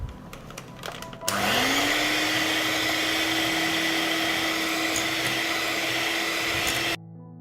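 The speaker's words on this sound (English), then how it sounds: "I will beat the ingredients with a mixer." An electric hand mixer starts up and beats cake batter ingredients, its whirring motor settling into a steady high hum with a constant pitch for several seconds, loud and close, then cuts off abruptly.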